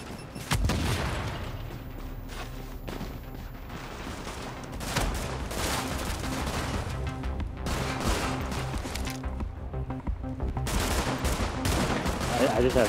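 Gunfire in The Division, a third-person shooter game, with repeated shots and bursts continuing over a busy, loud mix of game sound, while voices talk intermittently.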